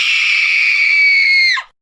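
A single loud, sustained high-pitched scream from a voice imitating a sneeze, held steady for more than a second and a half before dropping off sharply at the end.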